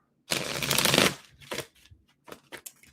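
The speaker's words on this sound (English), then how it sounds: "give me a few more seconds to get a couple good shuffles in here" Tarot cards being shuffled by hand during a live reading, a dense riffling burst for about a second followed by several shorter, softer flicks and snaps, close up with no talking.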